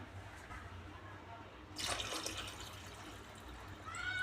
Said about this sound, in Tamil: அரிசி எடுத்த டம்ளர்லேயே ஒரு டம்ளருக்கு ரெண்டு டம்ளர் தண்ணி வந்து சேர்த்திக்கலாம்